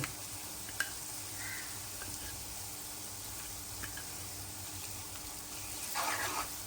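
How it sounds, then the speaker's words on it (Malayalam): Onions and soaked ingredients sauté in a pan for a prawn and mango curry, giving a steady soft sizzle with occasional stirring scrapes and a louder burst of frying near the end. "ഈ സമയത്ത് നമുക്ക് ഇതും കൂടെ ചേർത്ത് ഒന്ന് വഴറ്റി കൊടുക്കാം"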